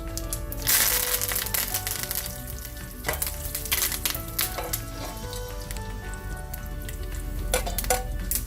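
Cumin seeds and dried red chilies sizzle in hot oil while rasam is tempered, a loud burst of spattering at the start settling into steady crackling frying with scattered pops and a few utensil clinks, close and with no talking.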